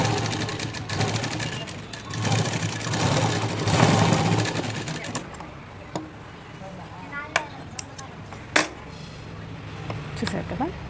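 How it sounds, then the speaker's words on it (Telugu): Sewing machine running a double line of stitching along the front part of a blouse, a dense whirring burst for several seconds that then gives way to quieter handling sounds and a few sharp clicks. "మళ్ళీ యాజ్ డబుల్ స్టిచ్చింగ్, మళ్ళీ ఒకసారి డబుల్ స్టిచ్చింగ్ వేసుకోండి."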